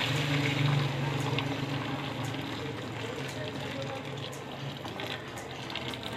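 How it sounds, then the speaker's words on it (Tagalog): Boiling water poured into a pot of pork for a home-cooked tomato pork stew, a steady loud gushing and splashing that fills the whole clip, with a voice talking over it. "Yan, binuhusan na po natin ng kumukulong tubig."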